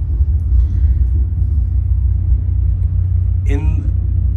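A sim racing game car's engine idles in the pits through a 5.1 sound system, a loud, deep, continuous rumble filling the room, with a brief voice-like sound rising over it near the end.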